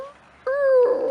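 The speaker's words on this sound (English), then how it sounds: "And pretty much we're here with my dog Crew." A dog gives a high, drawn-out whimper that rises into a thin, whiny cry, close and clear in a short burst.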